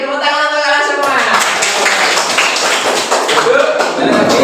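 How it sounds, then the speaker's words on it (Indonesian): A group of children and their teacher clap in a classroom, with a burst of applause rising out of a sung tone and then a dense, loud clatter of hands mixed with voices. "Tepuk tangan untuk kalian semua."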